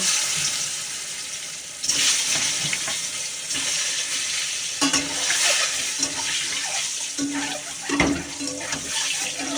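Eggs fry in hot oil with a continuous broadband sizzle, broken now and then by a few louder pops and utensil clatters.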